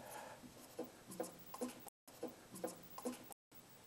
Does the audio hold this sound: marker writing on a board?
yes